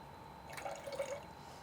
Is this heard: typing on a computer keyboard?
no